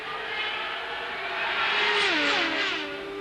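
1991 IndyCar race cars roar past, a loud sustained engine whine that swells and drops in pitch as the cars go by.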